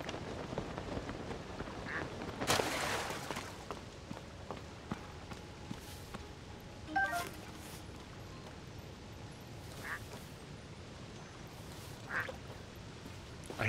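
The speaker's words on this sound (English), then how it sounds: "I hear ducks. There's ducks here." Ducks quacking in the video game Zelda: Tears of the Kingdom, a few short quack bursts at moderate volume spread across the stretch over soft game ambience and occasional footstep-like taps, with no talking.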